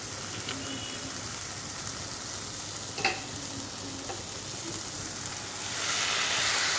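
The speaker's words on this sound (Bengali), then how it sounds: "তাই আমি কষার সময়, মশলাটা কষার সময় আমি টমেটোটা দিলাম।" Spice masala with tomato frying in a pan, a steady soft sizzle with faint stirring scrapes and a small clink, growing slightly louder near the end.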